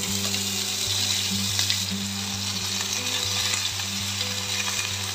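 Washed taro stems drop into a hot pan of oil with bay leaf and asafoetida tempering, setting off a steady loud sizzle, while a utensil stirs them with light scraping knocks throughout.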